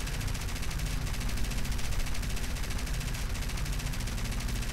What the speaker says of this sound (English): They're very difficult to get on target because you are only firing a single MG